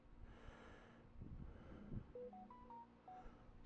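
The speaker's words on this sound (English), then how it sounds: "Sorry for my phone. I don't know what that is." A Facebook app notification chimes from a nearby phone as a short, faint run of stepped electronic beeps rising in pitch, heard over soft breathing and low background noise.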